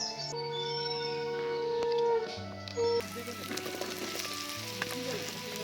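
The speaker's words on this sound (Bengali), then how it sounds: "এটাকে হালকা আঁচে কষিয়ে নেব।" Quartered button mushrooms sautéing over low heat make a soft, steady sizzle, with a few light clinks, and no one speaks.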